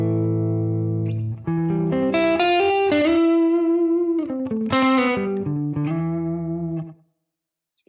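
An electric guitar plays through a Quad Cortex green 808 preset in clean mode, with slapback delay and spring reverb. Sustained chords and single notes ring out alone and fairly loud for about seven seconds, then cut to silence.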